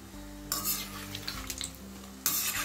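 Pitha frying in ghee sizzles in a pan, with a few clinks of a utensil stirring or lifting food; no voices.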